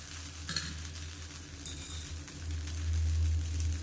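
Jowar (sorghum) dosa batter sizzling on a hot pan, a steady soft frying hiss with a brief scrape near the start and a louder low rumble swelling toward the end, no voices.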